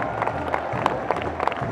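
A crowd applauds and cheers for a charity relay team at the Roparun finish on the Coolsingel in Rotterdam, a dense, loud wash of outdoor clapping with scattered sharper claps and voices mixed in.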